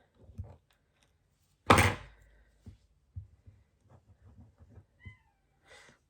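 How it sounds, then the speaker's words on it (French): A cat behind a closed door cries to be let in, one loud plaintive meow standing out among soft, scattered thumps and quiet shuffles nearby. "J'ai mon chat qui pleure derrière la porte, qui veut rentrer."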